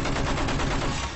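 Rapid automatic gunfire in a video game, a dense, continuous burst of shots that is loud and unbroken for about a second, with no talk over it.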